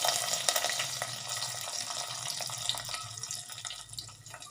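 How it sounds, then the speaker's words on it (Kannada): Mustard seeds, cumin, sesame, urad dal and garlic crackle in hot oil, a steady, moderately loud hiss with scattered pops running throughout. "ಸಾಸಿವೆ ಜೀರಿಗೆ ಚಟಪಟ ಅಂತ ಇದೆ"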